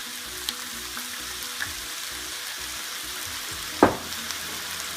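A chicken stir-fry sizzles and crackles steadily in a pan as sauces are added, with a brief louder hiss as liquid hits the hot surface and a few small clinks.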